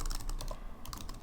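Steady typing on a computer keyboard, with fast, irregular key clicks heard close and alone, no voices.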